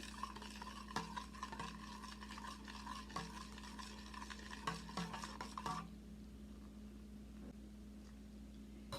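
A spoon scrapes and taps around a pot of clarified butter (ghee), a low steady hum running underneath, the sharp clinks coming at irregular beats before the stirring stops partway through and leaves only the quiet drone.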